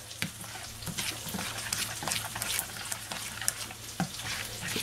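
Sauce sizzles and bubbles in a hot frying pan as hot water goes in and is stirred, making a steady close crackle with scraping stir sounds, for a garlic lemon butter sauce with pan-fried sea bass.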